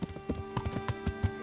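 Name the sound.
horse hooves clip-clopping, riding in video game Kingdom Come: Deliverance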